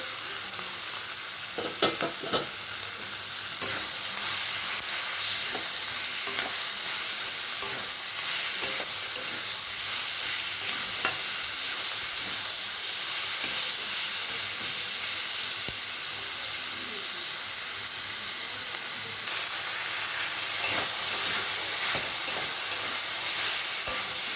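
Chicken mince fries in a pan for a keema dish, with a loud, continuous sizzle and hiss. Frequent scraping stirs run through it, with heavier clatters near the start.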